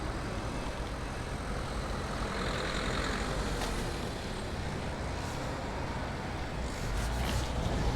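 Road traffic passes through Bude, Cornwall on a Monday afternoon, a continuous faint wash of vehicles with heavier truck rumble and occasional hissing brakes in the distance.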